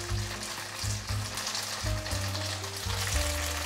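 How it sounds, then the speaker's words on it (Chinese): Food sears in a pan with a steady, close hiss of sizzling, while low tonal hum or background music runs underneath. "先把第一面煎出焦感"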